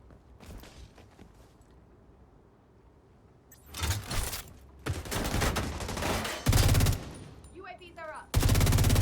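Automatic gunfire in The Division 2, with bursts building from scattered shots into loud, sustained volleys in the later seconds.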